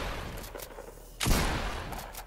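A green pump shotgun fires in Fortnite, one loud broadband blast midway that tails off over a second, among fainter distant gunfire cracks and game ambience.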